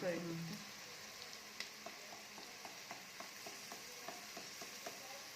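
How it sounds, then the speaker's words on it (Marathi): Onion, garlic and chili fry in a pan for a Marathi masale bhaat, a steady soft sizzle with scattered light clicks of stirring, fairly quiet throughout. "चांगलं परतून घ्यायचं कांदा, लसूण, मिरची."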